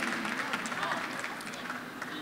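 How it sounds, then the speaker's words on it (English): A graduation audience at the Southfield High School for the Arts and Technology Class of 2019 ceremony claps in a steady, dense wash. The applause sounds fairly distant and soft, with a faint voice underneath. "Seniors, please give them all a round of applause"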